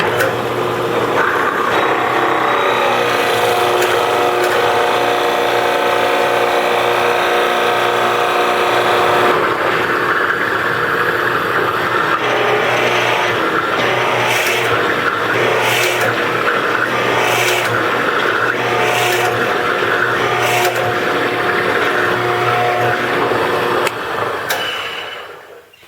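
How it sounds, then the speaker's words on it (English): A power tool cuts into wood while making a woodworking vise, a loud sustained whine with steady grinding texture that holds for over twenty seconds before quickly winding down. "cutting is getting so hot that the moisture content in the wood is like literally boiling and coming up as steam"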